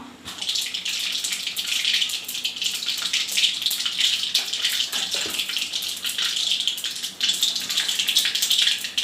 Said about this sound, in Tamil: எண்ணெய் சூடாயிடுச்சு கடுகு போட்டுக்கலாம் கடுகு பொறிட்டோம்